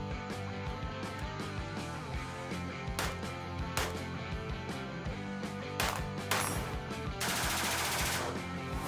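An ADS 5.45 mm amphibious assault rifle fires a series of sharp, loud shots with irregular spacing, some rapid bursts, ending in a longer noisy stretch.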